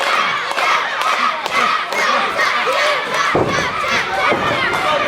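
A wrestling event crowd roars and shouts continuously at a No Limits match, dense cheering and yelling filling the space with thuds and bursts rising over the steady din.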